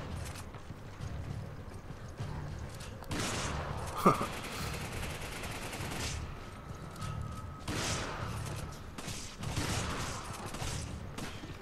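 Gunfire from Resident Evil 5 rattles in bursts of shots over a steady game background, with one sharp louder crack standing out near the middle.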